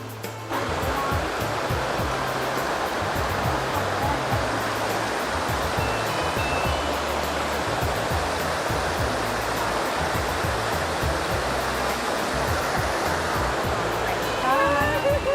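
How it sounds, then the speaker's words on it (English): Water from a rainforest stream pours down nearby in a loud, steady rushing roar that carries unbroken from start to finish, with the continuous broadband wash of falling water filling the scene. "it's water flowing up from that stream and it's coming down right behind me here"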